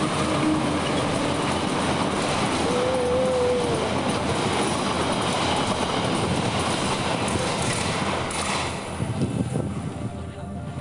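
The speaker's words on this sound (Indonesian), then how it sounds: "soalnya emang keretanya udah deket" A train passes close by through a narrow alley in Bandung, a loud continuous rumble with clattering wheels and a brief squeal, easing slightly near the end.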